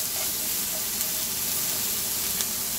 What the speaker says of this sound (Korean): 야채를 먼저 볶아주고요.